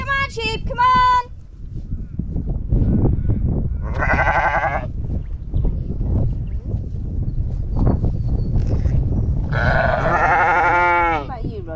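Sheep bleat on a farm: one short call at the start, then a longer bleat and a final drawn-out wavering one, close and loud over steady wind rumble and people talking.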